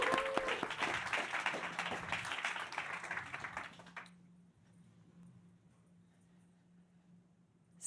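Audience applause at a startup accelerator demo day for AI in energy, a full crowd clapping for about four seconds before cutting off to near silence with a faint low hum.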